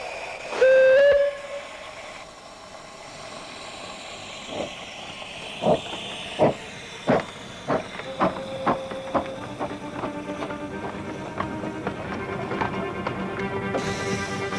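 The steam locomotive Northern Chief on the Kent coast sounds a shrill whistle, then chuffs in a steady, accelerating rhythm as it draws closer, wheels and machinery clattering loudly.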